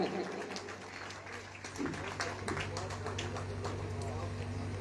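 An audience at a Mushaira and Kavi Sammelan poetry gathering in Madhuban, Bihar, claps to welcome poet Nandni Azmi, a dense, continuous wash of applause heard from within the crowd with a steady low hum beneath it.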